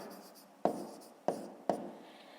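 A pen writing on paper while working a fifth-grade maths exercise, with soft scratching strokes broken by three sharp taps as the pen meets the page, close and quiet, with no talking.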